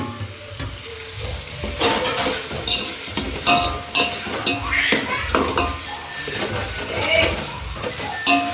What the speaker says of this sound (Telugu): ఈ అల్లం వెల్లుల్లి పేస్ట్ కొంచెం బాగా ఆయిల్లో మగ్గనిద్దాం, పచ్చి వాసన పోయేంత వరకు